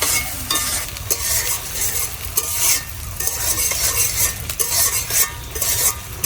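Chopped onions and bay leaves fry in a pan while a utensil stirs and scrapes repeatedly, producing loud bursts of sizzle and clatter in an uneven rhythm with no voices.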